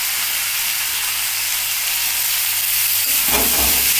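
Cauliflower, capsicum and onion stalks frying in a pan for a winter lunch dish: a steady, loud hiss and sizzle throughout, with a brief clatter of stirring near the end and no talk.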